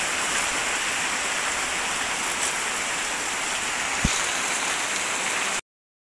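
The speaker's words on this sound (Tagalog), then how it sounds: "Lakas ng ulan, Papa P." Heavy rain drums steadily and loudly on a car's surface, a dense unbroken wash of hiss throughout with one brief knock partway, then it cuts off near the end.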